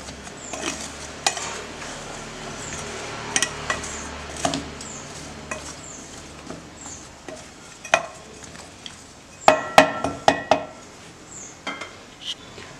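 Cucumber pickle pieces for Andhra-style dosa avakaya are stirred in a vessel, with a spoon scraping and clinking against the metal in irregular taps and knocks, close and moderately quiet, with a brief cluster of sharper clanks near the end.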